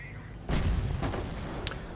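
A tank shell strikes a house in an urban tank battle in a video game, a sudden heavy boom followed by a second crash and rumbling debris, loud and close against a low background.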